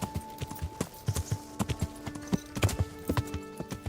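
Horse hooves clip-clop steadily in a riding video game, a brisk run of close, sharp knocks in irregular rhythm with a faint whinny-like tone behind, no talk over them.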